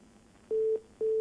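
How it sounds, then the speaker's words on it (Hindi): Two short identical beeps of a telephone tone sound after a disconnected call, loud and clean, separated by a brief gap over faint line hiss. "फोन कट गया है।"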